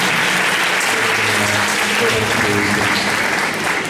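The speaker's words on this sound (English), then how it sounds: "I'd like you all to give a warm round of applause." An audience gives a warm round of applause at the end of a talk show session, dense and loud clapping that continues steadily for the whole four seconds, with some voices mixed in.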